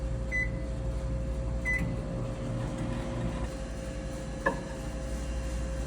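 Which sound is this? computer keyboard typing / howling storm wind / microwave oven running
microwave oven running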